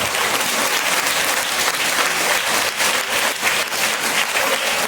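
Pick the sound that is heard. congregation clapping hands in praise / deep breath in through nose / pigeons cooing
congregation clapping hands in praise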